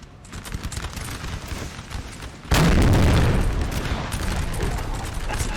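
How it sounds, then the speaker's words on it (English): Artillery and musket fire in a Napoleon Total War battle between French and Austrian armies: a dense rumbling crackle of distant volleys, then a heavy booming blast that swells loudly and lingers as a sustained roar. "Oh, there is artillery."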